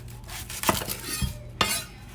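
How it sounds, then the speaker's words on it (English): A knife chops through an onion on a cutting board, giving a few separate, close, sharp knocks spaced out over two seconds. "So we are going to chop this, cut that end off, and peel it."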